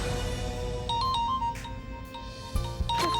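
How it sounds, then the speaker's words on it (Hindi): A phone ringtone plays a repeating melodic tone pattern over a steady low background hum, fairly close and moderately loud. "किसका फोन आया?"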